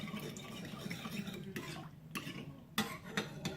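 Baker's yeast and water are stirred together in a bowl for bread dough, giving soft, quiet swishing and light scraping with a few sharper clinks of the utensil.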